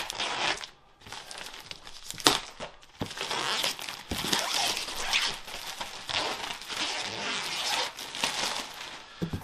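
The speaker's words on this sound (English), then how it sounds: "So we'll just cut her open and see what we actually get in the box" A cardboard box holding a Tineco iFloor One S3 cordless hard-floor cleaner is cut open and unpacked. Close, busy crinkling and tearing of cardboard and plastic packaging goes on steadily, with sharper rips and knocks.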